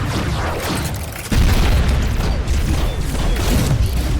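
A video game grenade explosion: a loud, sudden boom hits partway through, followed by a sustained rumbling roar that stays heavy to the end.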